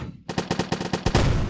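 Cannons in the Tactic Defense tower-defense game blasting at tanks, a rapid burst of about ten sharp booming shots in quick succession that run together into a continuous roar at the end.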